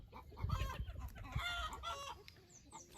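Free-ranging chickens cluck softly and irregularly close by while foraging in long grass, with scattered quiet calls over faint outdoor background noise.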